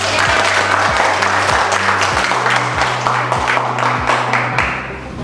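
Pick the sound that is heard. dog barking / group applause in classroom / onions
group applause in classroom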